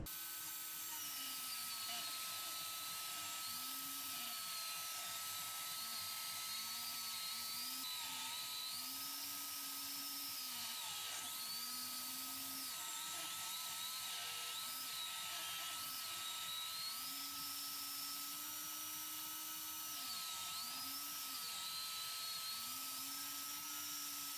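A chainsaw mill rips lumber with a high, sustained engine whine that wavers in pitch as the cut proceeds, steady and fairly quiet throughout.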